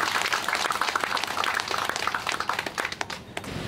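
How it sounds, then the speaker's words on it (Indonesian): Applause from a crowd at a NasDem party Pileg 2024 consolidation gathering in Maybrat, Papua Barat Daya, dense steady clapping throughout that thins slightly toward the end. "Tepuk tangan untuk beliau."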